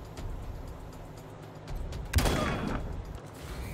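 Gunfire in the Wasteland 3 video game: one sharp burst of shots lands about halfway through, its noisy tail trailing off over a low background hum, with no talk over it.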